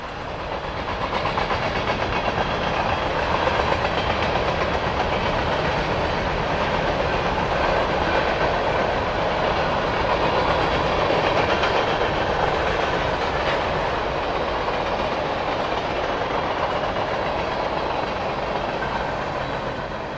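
A CSX freight train rumbles steadily past at close range in Nappanee, Indiana, with continuous roaring wheel and rail noise and faint rhythmic clacking throughout.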